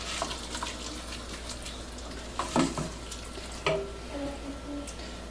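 A spoon stirs a pot of beef and orzo stew in a home kitchen, giving a low, steady scraping and sloshing with a few sharper knocks against the pot, fairly quiet and heard alone.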